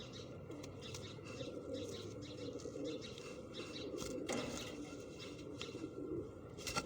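Sialkoti breed pigeons coo softly and steadily, with faint chirps and occasional wing flaps in a quiet background.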